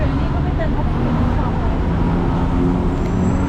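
Heavy city traffic at a Bangkok bus stop in the evening, a constant loud roar of engines and road noise close by, with a voice talking over it.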